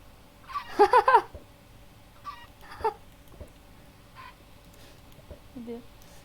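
A chicken in the video game Minecraft gives a quick cluster of clucks near the start, then a couple of fainter squawks follow across a quiet background.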